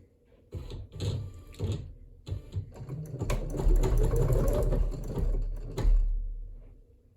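A Singer EM200 Superb embroidery machine stitches close by in loud rapid mechanical bursts of whirring and needle tapping that start, stop and restart, with no talking.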